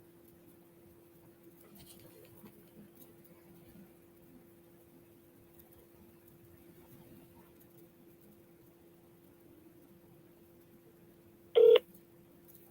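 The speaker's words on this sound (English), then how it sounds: "So let's dial 611 just so I can show you guys that this is total." A phone dials 611 to call Total Wireless: a steady faint dial tone hums throughout, then a single short keypad tone sounds near the end.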